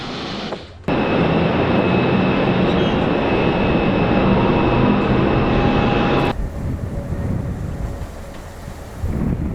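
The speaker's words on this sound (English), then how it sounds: "Cameraman leans dangerously close to the runway, capturing Aerosucre takeoff" An Aerosucre cargo aircraft takes off right beside the runway, its engines erupting into a loud, sustained roar close by that holds steady, then abruptly drops to a fainter, more distant rumble as it passes.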